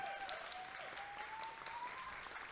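Audience applause filling a concert hall at Circo Voador in Rio, steady and dense for a couple of seconds, with a faint whistle gliding over the clapping.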